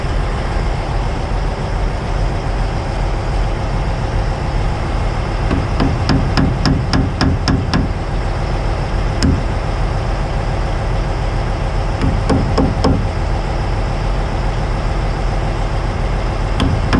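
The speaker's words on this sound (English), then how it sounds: "Big hammer." A big hammer strikes a tandem jeep and stinger with several quick metallic clanks in two bursts, over a steady, loud engine-like rumble.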